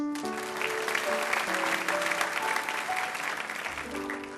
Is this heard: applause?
yes